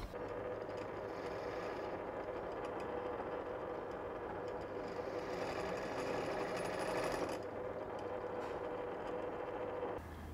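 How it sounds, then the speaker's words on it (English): Drill boring into aluminum stock on a metal worktable with oil lubrication, a steady whining machine drone that holds loud and constant throughout, swelling slightly midway with no voices. "It doesn't seem like it has any problem with drilling aluminum."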